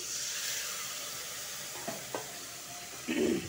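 Potatoes and tomatoes fry in a pan with cumin, coriander and chilli powder, sizzling steadily up close while a spoon stirs and scrapes a few times, louder toward the end.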